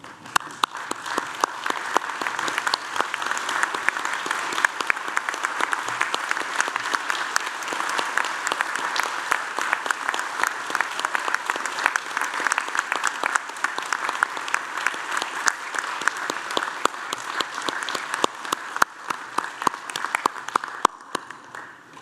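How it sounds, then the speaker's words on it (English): An audience applauds graduates at a university graduation ceremony in Newcastle, Australia: dense, sustained clapping from a large crowd fills the hall steadily from start to finish, with no voices over it. "join me in applauding the wonderful achievement of these graduates"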